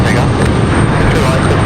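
Airbus A220 airliner on the runway at Raleigh-Durham International Airport: a loud, steady broadband jet roar filling the whole moment without a break.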